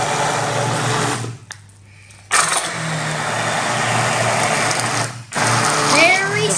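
A stick blender whirs through beans in a pot for spinach bean dip, a loud steady motor drone that cuts out briefly twice before resuming.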